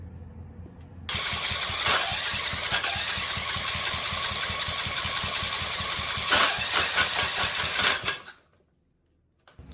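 A junk-built engine filled with Valvoline 5W20 oil cranks, catches and runs with a fast, even chugging beat, loud and close. It surges near the end, then cuts out abruptly into near silence.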